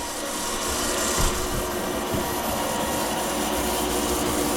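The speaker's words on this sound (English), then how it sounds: "that's the crank starting to grind" A crankshaft grinder works on a small block Chevy crank with a steady, even grinding hiss and rasp, continuous throughout with faint knocks underneath.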